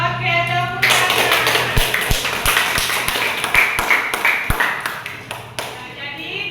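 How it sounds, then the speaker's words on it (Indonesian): Pupils clapping together in a classroom in response to a poetry reading, with sharp individual claps mixing into a busy, dense burst of applause that carries over a continuous murmur of children's voices. "Oke, tepuk tangan."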